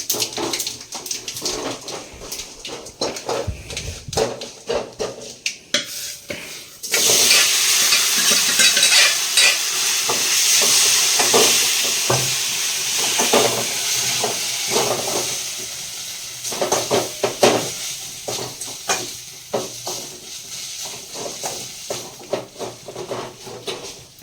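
Steady sizzling of masala dosa filling frying in a pan, with repeated scraping and stirring clatter; the sizzle grows louder and denser partway through.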